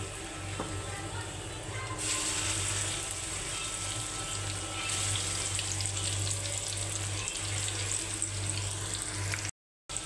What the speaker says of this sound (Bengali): শক্ত মুরগি ছেঁচা আমি তেলে ভাজবো। তার জন্য চুলে তেল বসাইছি। এখানে আমি মাখানো মাংসটি ছেড়ে দেব।